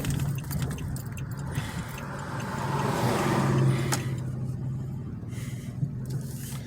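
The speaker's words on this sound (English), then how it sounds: "Got another car." A car drives past on a residential street in a fire-damaged neighborhood, its low engine rumble swelling toward the middle and fading away, close and steady with no talking.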